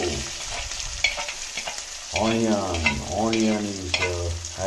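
Chopped onion fries in hot oil for Udupi-style upma, crackling and sizzling up close while a spoon scrapes and stirs through it in uneven strokes.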